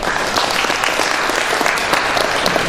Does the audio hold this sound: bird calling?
no